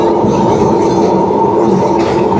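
A Kolkata heritage tram rumbles along its rails with a loud, steady rolling drone and a continuous mechanical hum, close by.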